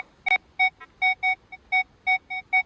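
Repeated electronic tone bursts from a Legend metal detector sweeping over foil in a shallow dig hole, about ten short beeps in an uneven rhythm, close and clear with no talk.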